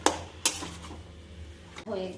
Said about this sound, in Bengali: এবার আমি সবটা ভাজছি, ভালো করে ভাজছি